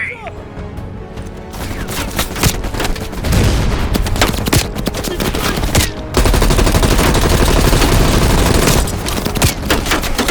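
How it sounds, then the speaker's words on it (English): Sustained machine gun fire from an entrenched MG in the Call of Duty Black Ops Cold War video game on PS5: loud, dense rapid bursts with booms and impacts, continuous and intensifying, with shouted voices over it. "Take out that MG!"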